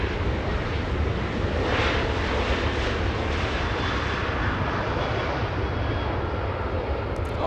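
An American Airlines jet inbound from Dallas at Los Angeles International Airport produces a steady, fairly loud engine rumble that holds evenly throughout, with no voices over it.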